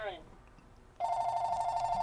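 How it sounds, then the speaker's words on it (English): A telephone bell rings steadily in the background, a continuous electronic trill that starts abruptly after a brief pause and keeps going at moderate volume. "the phone is ringing in the background"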